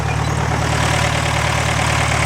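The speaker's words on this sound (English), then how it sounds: "the engine looks pretty level and it's not shaking nearly as much as it did" An air-cooled 1970 VW Beetle engine idles after a valve repair, producing a close, steady, low throbbing hum with an even pulse and no voices.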